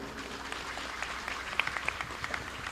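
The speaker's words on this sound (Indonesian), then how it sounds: "Tepuk tangan dulu" A faint, distant crowd claps at an Indonesian religious comedy gathering, a thin steady patter with a few sharper claps and no talking over it.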